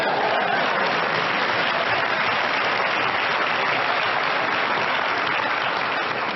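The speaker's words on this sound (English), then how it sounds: "Come on, clap." An audience at a motivational talk on beating addiction applauds, a dense, steady wash of many hands clapping that fills the whole stretch at an even level.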